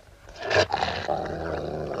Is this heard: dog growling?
yes